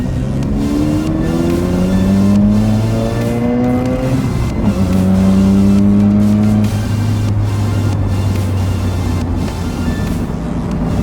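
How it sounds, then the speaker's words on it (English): A Mazda RX-7 fitted with Tein coilovers rounds a corner and accelerates onto a freeway, its loud engine climbing steadily in pitch through the gears, with a brief shift dip before revving up again, heard close from inside the car. "we're going around a corner and onto the freeway"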